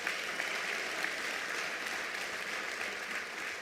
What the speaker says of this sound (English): Let's give government a big hand of applause